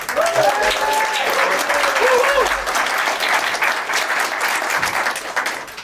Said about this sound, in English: big round of applause, Rob Freeman, let's have it.